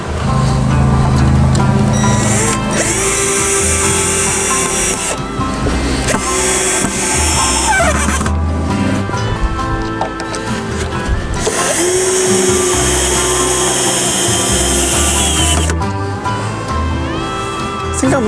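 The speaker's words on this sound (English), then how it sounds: "we're gonna drill them into the countertop itself" A power drill driving screws into a wooden countertop during a DIY patio bar build, sounding in loud high-pitched whirring bursts of a few seconds each with short pauses between them.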